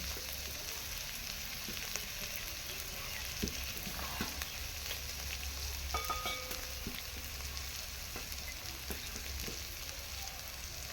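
Ginger, onion and a mixed spice paste frying in a pan for chicken kofta curry, a soft continuous sizzle and crackle with occasional stirring scrapes and clicks, fairly quiet and without speech.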